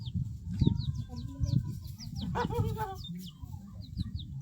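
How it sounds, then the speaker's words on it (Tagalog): Chickens cluck and squawk nearby in repeated short calls over a noisy outdoor background at a beach picnic under a tree, with occasional faint voices. "Ay! May manok!"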